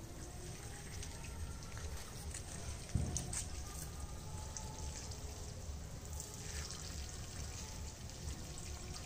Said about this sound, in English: Now time to water it,